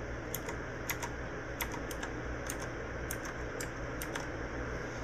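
Light, quick keystrokes on an RGB computer keyboard, an irregular run of crisp clicks with short pauses, fairly quiet over a low steady hum.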